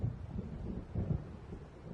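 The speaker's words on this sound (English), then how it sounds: "It seems there's a storm coming." Low, rolling thunder of an approaching storm in Alan Wake Remastered, a continuous deep rumble with swelling bursts, moderately loud and steady, with no voices.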